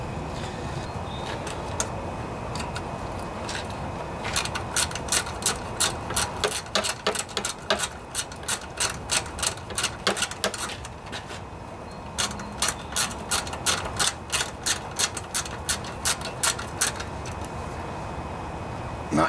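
A ratchet tightening the blade bolt on a lawnmower, sharp rapid clicking in repeated runs of strokes with short pauses between, close and crisp over a quiet background.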